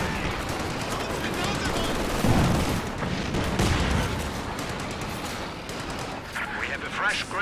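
An anti-tank gun fires amid a busy battle in a strategy video game, its booms mixed into continuous rattling gunfire and explosions while a commentator talks throughout.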